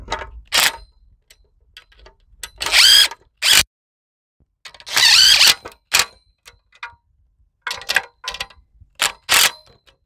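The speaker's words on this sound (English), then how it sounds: "Make sure you got your whole socket set with you, you know. Tighten these up." A power tool runs in short bursts of whirring while bolts are tightened during an alternator replacement on a 2012 Ford Escape, with metallic clinks and pauses between the loud spins.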